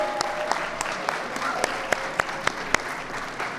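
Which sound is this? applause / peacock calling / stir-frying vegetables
applause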